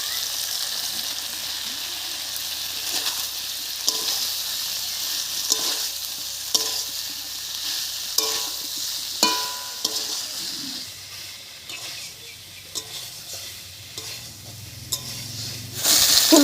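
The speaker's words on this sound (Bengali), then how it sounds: "ফুলকপি দিয়েও খুব ভালো করে কষিয়ে নিয়েছি।" Fried cauliflower and spiced potatoes sautéing in a pan: a steady hiss of sizzling with periodic scrapes and knocks of a spoon stirring, close and alone, no talk.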